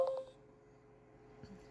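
A smartphone gives a short electronic beep while writing to a blank NFC tag chip for a business card brooch, a brief clear tone at the start and then quiet with a faint click near the end.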